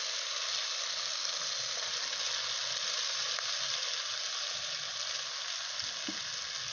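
Fried potato slices go into okra cooking in mustard and poppy seed paste, giving an even, continuous sizzle with faint stirring knocks underneath, steady throughout.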